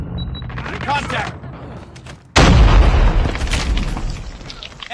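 In a shooter video game, a sudden heavy burst of gunfire with booming impacts erupts midway and rumbles on loudly, after quieter game sounds and voices.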